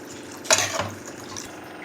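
Water is poured into a cooking pot for a drumstick gravy in a kitchen, a brief splashing rush that lasts under half a second and then fades to quiet.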